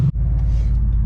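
Exhaust of a third-generation Mitsubishi Eclipse heard from the back, a loud, steady, deep idle rumble with an even low pulse after a brief dip at the start.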